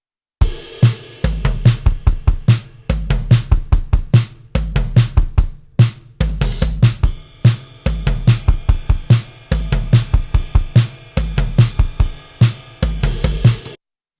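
A dry, retro-sounding Logic stock drum kit routed through an SSL BiG SiX plays a steady groove of kick, snare and cymbals for about fourteen seconds, close and punchy with no talking.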